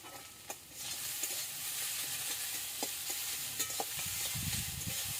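Samosa filling with boiled peas and chopped coriander stirred in a hot pan, giving a soft continuous sizzle broken by scraping strokes and light clicks from the spoon.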